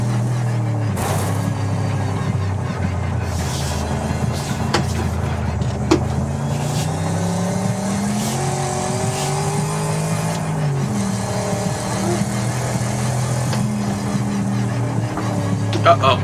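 Race car engine in the Wreckfest video game, with the car on fire during a time run, drones and shifts pitch continuously through the clip, with occasional tire squeal and impacts.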